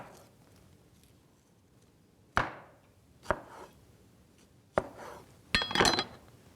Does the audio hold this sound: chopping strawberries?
yes